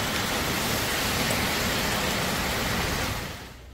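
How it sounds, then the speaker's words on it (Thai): Heavy rain pours steadily as a dense, even hiss across the whole spectrum, loud and continuous with no voices, before fading somewhat in the last half second. "ฝนก็ตกหนักมากเลยวันนี้"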